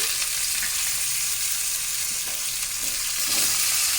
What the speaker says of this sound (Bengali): এই ভেজে রাখার তেলেই আমি পেঁয়াজ দিলাম